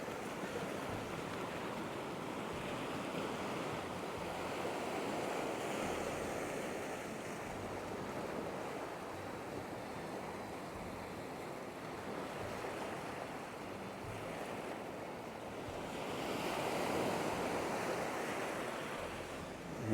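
Surf rolls onto Nang Thong Beach in Khao Lak, Thailand, a steady wash of breaking waves with some wind noise, swelling louder for a few seconds near the end.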